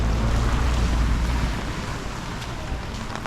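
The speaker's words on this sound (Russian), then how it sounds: "Дождливая улица." Steady hiss of light rain falling on a city street in Korea, a dense even wash that is slightly louder at first and then settles, with no voices.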